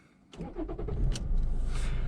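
A warmed-up 2004 Toyota Corolla 1.4 D-4D diesel engine cranks briefly and catches, settling into a steady idle rumble up close.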